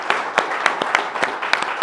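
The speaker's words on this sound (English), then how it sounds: "Round of applause for David, I think." A small meeting audience at a bus preservation society's annual general meeting gives a round of applause, sparse distinct claps in an uneven rhythm, close and moderately loud.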